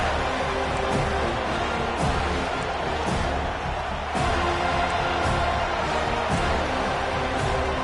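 A packed stadium crowd at a Clemson versus FSU college football game keeps up a dense, continuous roar with surges of cheering, a sustained wall of noise and no clear talk on top.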